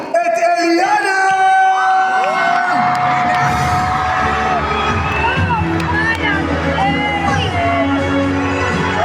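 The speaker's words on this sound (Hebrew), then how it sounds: "קבלו במחיאות כפיים סוערות את ההמצאה שלנו" Crowd at a children's holiday festival stage show cheers, whoops and yells loudly and continuously as a new act is introduced, with music and bright tones layered underneath.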